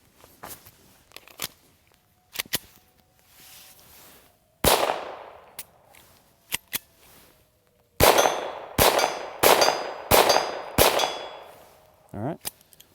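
A TX-22 rifle fires Remington Subsonic 38-grain rounds at a shooting range: sharp, close cracks with a metallic ring, a few spaced single shots early, then a quick string of shots and one last report.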